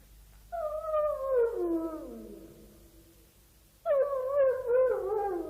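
A dog whines and howls from a cellar in a radio drama, two drawn-out mournful cries with falling pitch separated by a short pause, moderately close and loud.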